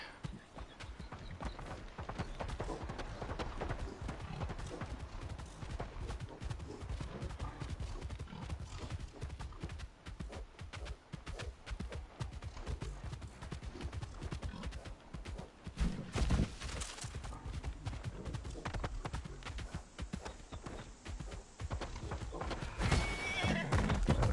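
Horse hooves clip-clop steadily with repeated neighing and whinnying throughout, a busy soundscape from the video game Palia on PS5 with louder bursts near the end.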